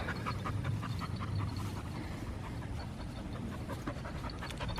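A stray dog pants steadily and rapidly at close range, a continuous breathy rhythm with no talking over it.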